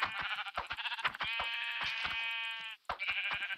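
Sheep in the game Minecraft bleat in a few close, wavering cries, one long drawn-out bleat in the middle, with short clicks and footsteps between them and no talk.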